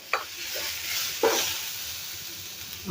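Garlic, ginger and coriander frying in oil, a soft steady sizzle with two brief scraping stir sounds, close and alone.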